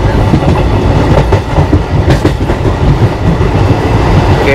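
A passenger train with third AC coaches runs along the rails, heard from on board as a steady, loud rumble with a rhythmic clatter of wheels over the track throughout.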